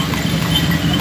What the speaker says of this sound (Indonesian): ada yang naik bendi